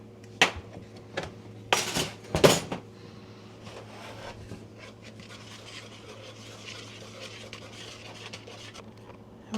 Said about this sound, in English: Let's whisk the dry ingredients together.